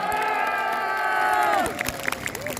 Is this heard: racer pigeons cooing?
no